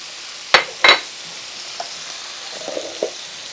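Berbere spice fries in olive oil as it is stirred, two sharp scrapes of the spoon up close followed by a few softer taps over a quiet, low sizzle.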